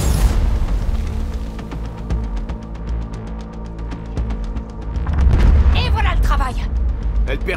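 Explosion in the video game Cyberpunk 2077, a heavy booming rumble swelling midway under game voices and dialogue, followed by crackling debris-like bursts, loud and close.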